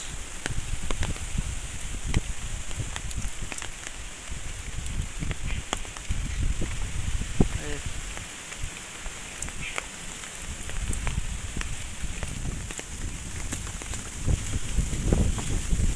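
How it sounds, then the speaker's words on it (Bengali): Steady rain patters on surfaces all around, with scattered sharper drops and occasional rustling over the constant hiss. "চারিদিকে বৃষ্টি।"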